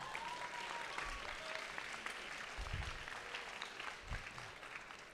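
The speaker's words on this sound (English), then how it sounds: "I think we deserve a big round of applause to him" Crowd applause at a VEX robotics showcase closing ceremony at UC Berkeley, a continuous roar of clapping from a large audience, with a few low thumps underneath.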